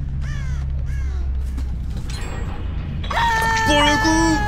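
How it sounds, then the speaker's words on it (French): A crow in the Dead by Daylight video game caws twice at the start, followed by a flutter of wings as it flies off, then bright, ringing game effects. "Corbeau qui vient de s'envoler par là-bas."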